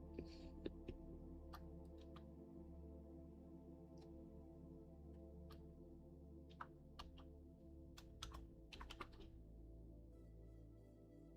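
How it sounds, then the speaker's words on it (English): Typing on a computer keyboard during a programming session, a steady run of faint, quick clicks and taps with a few sharper keystrokes over a low room hum. "I'm typing in the wrong fucking spot."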